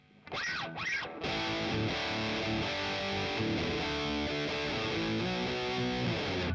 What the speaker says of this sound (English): Now I've got the T scream, which is short for the tube screamer.